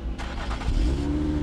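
Lotus Emira sports car engine started by push button: the starter cranks briefly, then the engine catches with a loud rising flare and settles into a steady, close idle.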